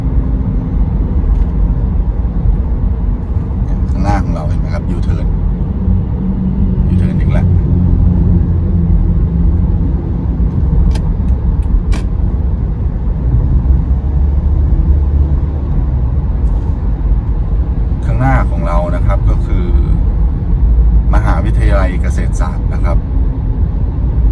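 A car driving inbound on Phahonyothin Road in Bangkok, between the Bang Khen roundabout and Kasetsart University, produces a continuous low engine and road rumble throughout while someone talks over it.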